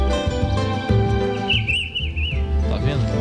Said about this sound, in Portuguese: Esse é o pitiguari.